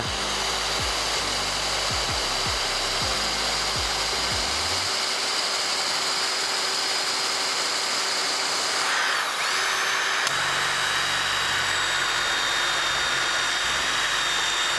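A WORCRAFT CHD-S20LiBAB brushless cordless drill runs at second speed, a continuous loud high-pitched whine held steadily throughout, with a brief shift in tone near the end.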